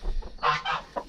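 Brief, soft clucking and throaty calls from a hen in a backyard flock, a few quick bursts within a second, faint and close with no talk.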